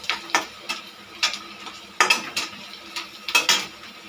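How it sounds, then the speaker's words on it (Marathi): Chopped onion and garlic are stirred in a pan for a soybean and potato bhaji, with repeated clinking spatula scrapes against the metal over a light sizzle, close and clear, no voices. "जरासं त्याला कांदा टाकून हलवून घेतल्याच्यानंतर लसूण घालून घेते"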